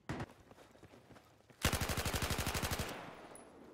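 M249 machine gun in the video game Battlefield 4: a few scattered shots, then a loud sustained burst of rapid, evenly spaced automatic fire that trails off into echoing decay.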